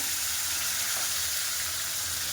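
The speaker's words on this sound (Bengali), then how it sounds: "তখন মাছের মাথাটা আর লেজাটা ভেজে নেব" Head and tail pieces of bhola fish fry in a pan of hot oil, giving a steady, dense hiss and crackle that stays loud and even from start to finish.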